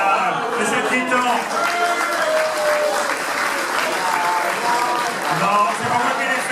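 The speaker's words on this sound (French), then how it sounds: "je vous demande de faire un tonnerre d'applaudissements à nouveau" A crowd claps loudly and steadily at the prize-giving evening of the 2018 Nuits-Saint-Georges half marathon, with people talking over the sustained applause throughout.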